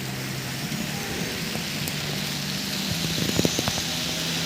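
Steady rain falls over a farm where fruit trees have just been planted, a broad even hiss with scattered drop ticks and a faint low rumble underneath, continuous and moderately loud.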